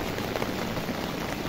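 Heavy rain pours steadily around a rooftop, a dense, continuous hiss of drops close by with no pauses or voices.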